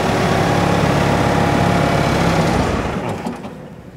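A Bobcat skid steer engine with weak hydraulics idles loud and close with a steady low rumble, then winds down and falls quiet as it is shut off in the last second.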